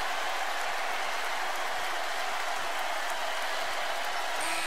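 Dense, continuous roar of a packed crowd at a Kentucky vs Tennessee college basketball game, Tennessee Volunteers fans cheering and clapping loudly without pause, a broad wall of arena noise.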